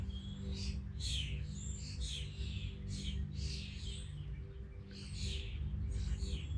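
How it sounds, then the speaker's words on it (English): Several birds chirp and trill in repeated bursts over a steady low hum, fairly faint and somewhat distant. "the birds are getting so loud now."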